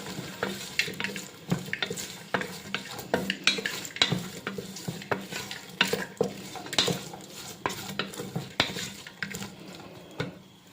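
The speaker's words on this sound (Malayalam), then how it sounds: "കുറച്ച് ഉപ്പ് കൂടി ചേർത്ത് വഴറ്റാം. ഉള്ളി നന്നായി വഴന്നു വന്നിട്ടുണ്ട്." Onions and potatoes sautéing in a pressure cooker pot, a soft sizzle under repeated scraping and stirring strokes of a spoon against the metal, with occasional clinks, steady and close throughout.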